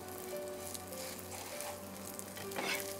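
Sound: potato and capsicum pancakes frying in ghee

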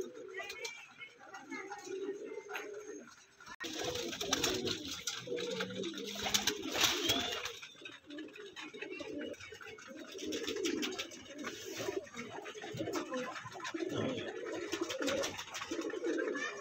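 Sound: pigeons cooing

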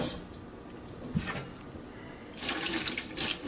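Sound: hot water poured over a glass crack, caught in a pot

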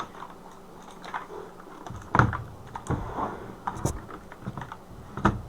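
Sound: mechanical keyboard typing

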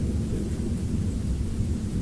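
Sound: thunder during a lightning storm

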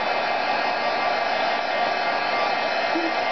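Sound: heat tool drying a stamped greeting card

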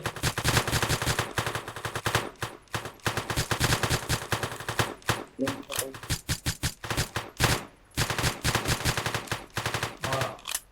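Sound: gunfire in One-Armed Robber video game

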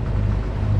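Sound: sailboat running under engine

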